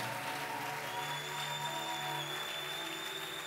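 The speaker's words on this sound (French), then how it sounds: "Acclame encore pour ta foi. Acclame encore." Congregation at a Sunday church service applauding together, a steady, dense wash of clapping at moderate distance with faint crowd murmur and sustained tones underneath.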